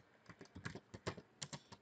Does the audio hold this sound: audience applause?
no